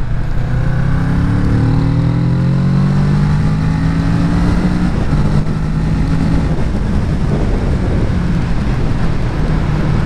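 Kawasaki Z650 2017 motorcycle engine pulling from low revs and accelerating hard on an open road to overtake a pickup, a loud, close rising engine note with steady wind roar throughout.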